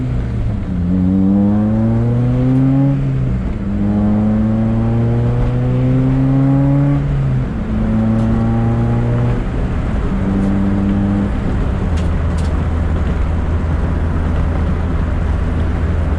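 A Honda Integra drives on a street, its engine rising through several gear pulls with clear upshifts in a steady rhythm, loud and close throughout, settling to a lower steady drone near the end.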